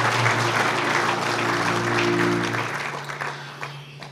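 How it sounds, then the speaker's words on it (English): Loud, sustained applause fills the hall at an event, with a low hum running underneath. The clapping stays dense for several seconds and then thins out as it tapers off. "a big round of applause for everybody who chipped in and helped out"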